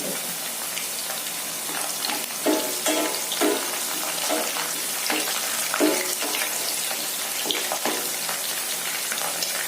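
Curry leaves fry in hot oil in a pan for a dates pickle, giving a steady close sizzle with bursts of crackle and spatter and no voices.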